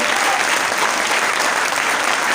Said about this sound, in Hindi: तो इसलिए एक जोरदार ताली प्रभा मैडम